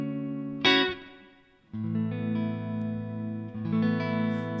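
A Fender Standard series electric guitar on the neck pickup, played through a modeler set to a Deluxe Reverb amp sound: a picked chord rings out and decays, then sustained clean, warm, dark notes follow with reverb tails.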